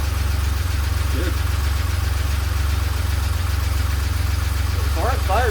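A DeLorean engine, just fitted with a new idle speed motor, idles steadily with a loud low rumble and constant vibration; brief voices chirp in near the end.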